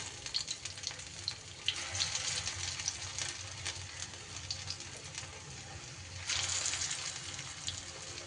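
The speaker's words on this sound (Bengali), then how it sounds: "বাকি পটলগুলোও কিন্তু একই রকমভাবে আমি তেলের মধ্যে দিয়ে দেব।" Pointed gourd (potol) pieces fry in hot oil, giving a continuous crackling sizzle that swells louder toward the end, close and steady with no talking.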